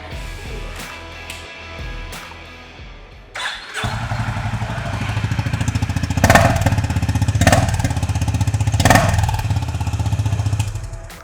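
A Honda CB350 motorcycle engine starts and settles into a loud, steady idle with a deep exhaust rumble, punctuated by a few sharp revs.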